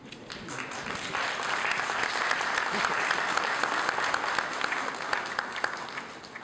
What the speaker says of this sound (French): Je pensais que quelqu'un pouvait m'applaudir.